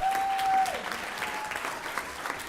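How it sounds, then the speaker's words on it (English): Audience applause fills a school board meeting in Boone County, steady clapping from a room full of people that holds at a constant level for the whole stretch with no voices over it. "Let's give him a round of applause."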